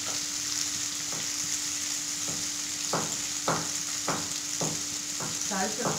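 Tamarind rice paste fries in a pan with a steady, loud sizzle, broken by regular scraping stirs of a spoon against the pan.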